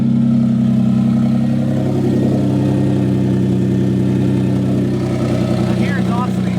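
A Nissan 350Z engine idles steadily with a leaky exhaust, a continuous low drone with a ticking, puffing texture, loud and close throughout.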